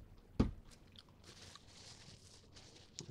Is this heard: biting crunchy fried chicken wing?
yes